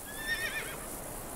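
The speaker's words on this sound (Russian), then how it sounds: "Лошадки." Horses in Euro Truck Simulator give a brief, faint whinny through steady game noise, fading quickly with nothing else rising above the background.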